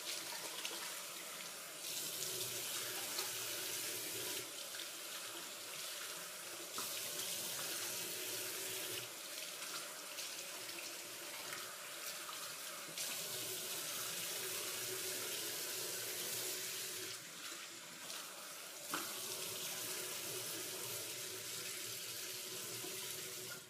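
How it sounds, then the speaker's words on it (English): Tap water runs steadily into a bathroom sink while someone rinses their face, a continuous close splashing hiss with slight shifts in flow and no talking. "I'm gonna turn on the water a little bit."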